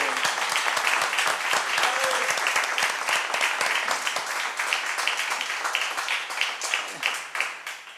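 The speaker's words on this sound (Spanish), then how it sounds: "Les pido un aplauso para Lito Neves y Miro López." Audience applause at a live talk event with guests on stage, sustained dense clapping from a crowd, close and continuous throughout.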